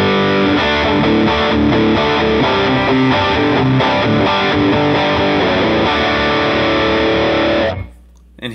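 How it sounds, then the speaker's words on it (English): An electric guitar runs through an OCD overdrive on a Line 6 Helix's tight preset, loud, steady, distorted chugging chords that ring on and then cut off abruptly near the end. "here is the tight preset with the OCD."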